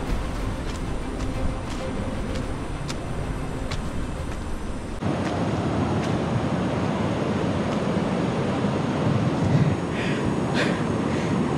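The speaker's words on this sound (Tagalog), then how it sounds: "Ito kita yung falls dito" Mindamora Falls waterfall roars as a steady, dense broadband rush, louder and fuller after a shift partway through, with scattered clicks and handling noises over the constant water.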